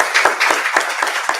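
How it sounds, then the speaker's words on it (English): A small audience at a community leadership council celebration claps for themselves, a close, sparse patter of individual hand claps with distinct uneven beats over a short burst. "So I applaud you and give yourselves a round of applause"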